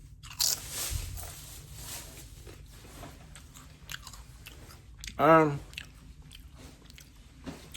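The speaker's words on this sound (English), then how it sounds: "let's test these chips" Spicy chili potato chips bitten and crunched close up, with one loud crisp bite-crunch standing out amid quieter chewing and faint background murmur.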